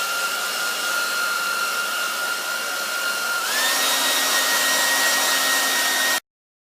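A hair dryer blows steadily on an embossing folder to dry it, a loud continuous whine that steps up to a higher setting midway, then cuts off abruptly, with no talking.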